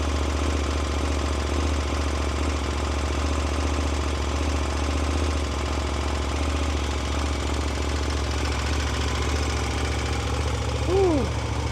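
A KTM 1290 Super Duke R motorcycle engine idling after a battery replacement, a steady, loud low rumble with slight knocking texture, plus a brief rising whine near the end.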